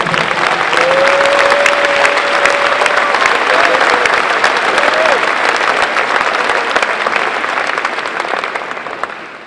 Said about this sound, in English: Graduates, let's show them your gratitude by applauding them for all of their hard work and sacrifice